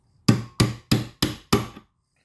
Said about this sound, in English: lightly hammer till we're past where the ring goes.